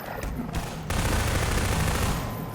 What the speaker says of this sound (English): And this SMG is definitely more effective.